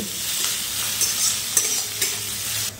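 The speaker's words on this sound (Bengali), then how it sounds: "এখন ফোড়নের সঙ্গে এই পেঁয়াজগুলো একটু ভালো করে ভেজে নিতে হবে।" Chopped onions fry in hot oil with black cumin and a bay leaf for a bhindi dish, a bright continuous sizzle broken by a few quick stirring scrapes, close and loud.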